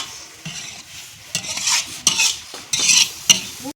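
Irregular scraping and stirring of carrots and khoya roasting in a pan over low heat, with a few louder strokes over a soft sizzle.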